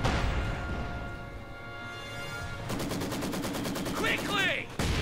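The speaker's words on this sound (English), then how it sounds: "Oh, another machine gun." Machine gun fire in the World War II video game Company of Heroes 2, heard as rapid, regular bursts of shots under battle noise, with game voices speaking over it.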